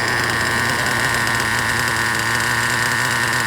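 Nitro RC monster truck engine idling steadily and continuously, a small high-revving buzz with a constant tonal hum, close and fairly loud with no talk over it.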